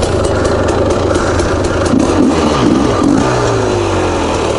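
A 300cc two-stroke motorcycle engine runs loud and close, idling rough before several throttle blips rise and fall in the middle, then settling into a steadier drone.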